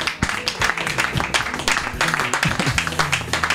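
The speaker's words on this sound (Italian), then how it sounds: "Uno scrosciante applauso per Emiliano Ferracuti." An Italian audience applauds Emiliano Ferracuti at a presentation with a steady round of clapping, and low rumbling sounds run underneath it.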